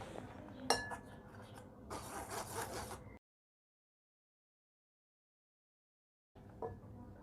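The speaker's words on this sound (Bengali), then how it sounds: "মিশিয়ে নিচ্ছি সব কিছু খুব ভালো করে।" Dry chocolate cake ingredients such as flour, cornflour, baking powder and baking soda are mixed in a bowl, giving faint clinks and soft scraping rubs, then silence before a brief return of quiet clinking.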